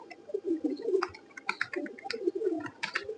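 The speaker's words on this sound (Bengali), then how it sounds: "টোটাল ছাদে খাকি কবুতর একশো প্লাস মানে উড়ানের কবুতর আছে" Khaki flying pigeons coo on a rooftop loft, with overlapping low throaty coos from several birds close by, mixed with wing flutters and scuffling, without any talking.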